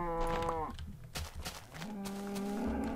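Cow mooing in a Minecraft-style video game, a loud drawn-out low moo followed by a second bellow, with a person talking in between.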